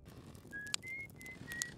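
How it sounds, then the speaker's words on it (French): Esker, an old depressed character in a video game, whistles from the moon: a faint, thin tune of a few sustained notes, with soft breathy accents, heard alone over a quiet hiss. "Esker, le vieux dépressif qui siffle depuis la lune."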